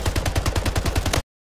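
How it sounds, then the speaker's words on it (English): Rapid automatic assault rifle fire in the shooter game Splitgate, a steady burst of about a dozen evenly spaced shots, loud and close, cutting off abruptly. "I headshotted him with an AR while hip firing."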